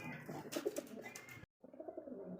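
Soft pigeon coos sound close by, a pair giving a few low throaty calls over a steady background hum, which cuts out briefly near the end.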